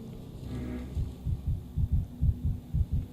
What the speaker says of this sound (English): Oh, his heart beating really fast